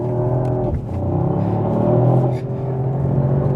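A Mercedes GT 63 pushes through a fast lap in third gear, its engine a steady, moderately loud droning rumble inside the cabin with small dips as the revs shift.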